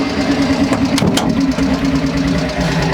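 A Peel P50 microcar's small engine runs steadily up close, giving a loud, even, buzzing drone with a slight rhythmic knock and no talking.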